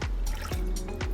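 A short, close pour of cooking oil into a bowl of cake batter ingredients, with soft gurgling glugs and trickling splashes over about a second.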